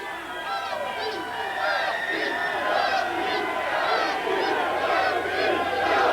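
A wrestling arena crowd at an NWA TNA pay-per-view cheers and roars continuously as Dusty Rhodes is in the ring, a dense loud wash of shouting and whoops filling the whole stretch.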